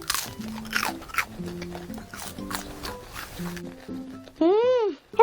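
Crunchy churros are bitten and chewed up close in several crisp crunches, with someone talking over the eating and a brief high sweeping tone near the end.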